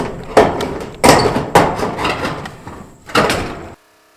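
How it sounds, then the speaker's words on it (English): A nibbler attachment on an ordinary drill cuts a hole while an exterior door is installed, giving a harsh sustained grinding chatter broken by several sharp loud bursts before stopping abruptly. "We're using a Nibbler attachment on just a normal drill."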